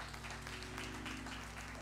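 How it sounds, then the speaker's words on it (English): Quiet applause rolls through a church congregation during a morning worship service, soft and somewhat distant, with a steady hum running underneath the clapping. "Let's give our babies a hand clap of praise."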